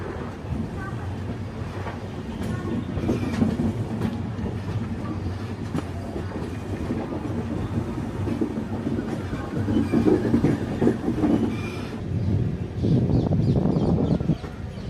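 Vaigai Express passenger train in motion on the tracks, a steady loud rumble with rhythmic wheel clatter throughout, swelling near the end, with some voices faintly mixed underneath.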